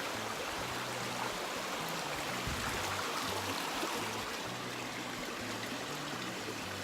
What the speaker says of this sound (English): I got it from this beautiful little stream right here.